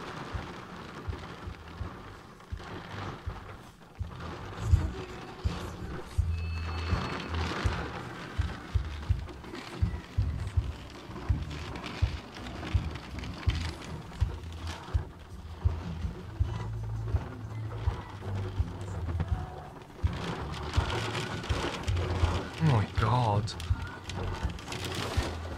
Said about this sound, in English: The rain's getting harder now.